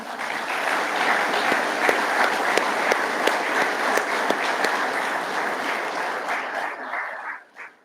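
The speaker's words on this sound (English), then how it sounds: "Please join me in giving them a round of applause." Graduation audience at the MSFA Class 219 ceremony breaks into sustained, dense applause that holds steady and loud for most of the stretch, with a few sharper claps standing out, then fades quickly at the end.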